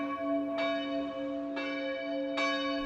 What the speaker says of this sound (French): Les cloches sonnent, pourtant ce lieu de culte est fermé depuis début décembre.